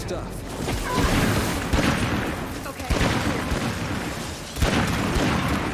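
A pyro launcher fires repeatedly in the video game Fox's Nightmare Zone, loud dense booms and crackling bursts that rise and fall in waves, with someone talking over the game sounds.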